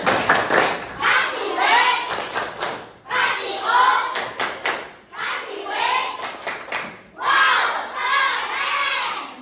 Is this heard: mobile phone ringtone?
no